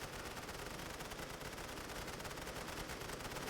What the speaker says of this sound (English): The machine gunners are doing that.